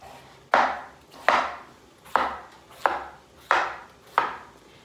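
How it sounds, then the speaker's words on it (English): Knife chopping potatoes into chunks on a cutting board: six crisp, evenly spaced thuds about a second apart, close and clear with no talking. "And then I'll cut them into chunks."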